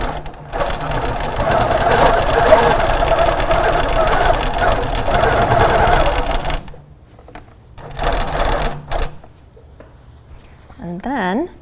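A Grace Co. Little Rebel sewing machine quilts a table runner, running in a long, steady stitching burst, then a shorter one after a pause, with a voice speaking briefly near the end.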